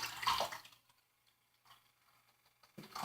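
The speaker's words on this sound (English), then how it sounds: "Put the water in there." Water is poured into a cooking pot, a short close splashing gush at the start, then a quiet lull and another brief splash of water at the end.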